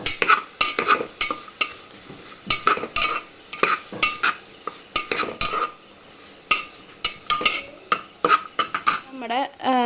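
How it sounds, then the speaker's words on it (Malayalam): Onions sautéed with a little salt in a pan for potato curry: busy, close spatula scraping and clinks against the pan in quick irregular bursts over a light sizzle, with no speech. "നമുക്കിതൊന്ന് നന്നായിട്ടൊന്ന് വഴറ്റെടുക്കാം."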